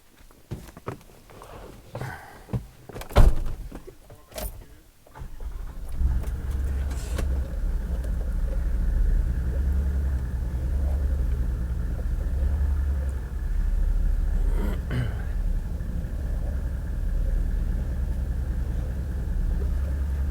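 A car reverses with a trailer hitched on, its engine a steady low rumble for most of the stretch, preceded by a few sharp knocks and clunks close by.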